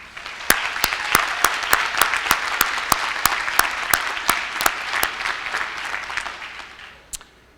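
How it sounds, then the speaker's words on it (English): Sustained applause from a crowd at an evening community college graduation ceremony, a steady wash of many hands clapping with a few sharp louder claps standing out, fading near the end. "So why don't we give a big round of applause to you."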